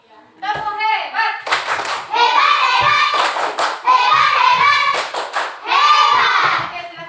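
Third-grade class doing a rhythmic clapping chant, children's voices chanting loudly in unison with bursts of hand claps and thumps falling in time between phrases.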